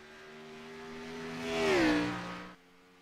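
Race car number 97 on track for an opening lap in a late-night racing league session at the Glen, its engine whirring steadily and rising to a peak before the pitch drops and fades abruptly.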